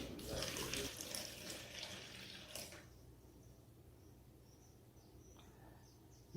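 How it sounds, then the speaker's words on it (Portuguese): Water poured into a cup, setting out liquid for mixing plaster to cast a balloon-shaped decorative vase; a steady close splashing rush for almost three seconds, then fading to a faint trickle and quiet room. "Aqui eu vou botar um copo de água."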